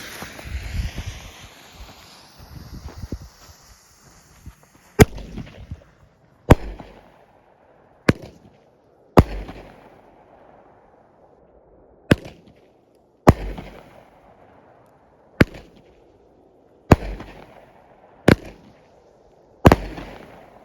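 A Havoc 9 shot firework cake fires outdoors, sharp loud reports cracking one after another at roughly even intervals, each followed by a brief crackling tail, with wind noise between shots.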